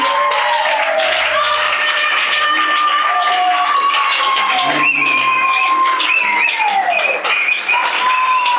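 A congregation at a church service claps and acclaims together, a dense, sustained wash of applause with voices and tones riding over it, loud and continuous throughout.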